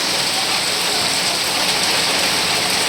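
Heavy rain pours down steadily in a village, a dense continuous hiss of drops drumming on surfaces throughout, with no voices.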